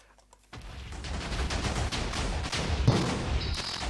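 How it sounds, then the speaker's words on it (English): TNT blocks explode in the video game Minecraft, a rapid chain of loud, overlapping blasts that starts suddenly after a brief quiet moment and keeps rumbling to the end. "let's just start with firing all this TNT up and see if it really is explosion-proof"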